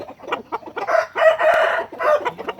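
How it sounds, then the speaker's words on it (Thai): A rooster crows loudly and close by, with hens clucking around it in a busy farmyard. "มีไก่ขาวนะครับมาใหม่"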